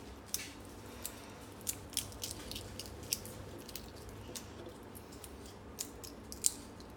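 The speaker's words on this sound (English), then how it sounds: "Just removing all of the shell here." Shell is picked and peeled off a boiled egg in quiet, irregular small crackles and snaps, faint and close, spread over several seconds with no speech.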